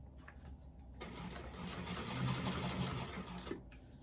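A sewing machine runs steadily for about two and a half seconds while stitching a small bag, then stops. The whirring motor and needle are close and clear, with no talking during the run.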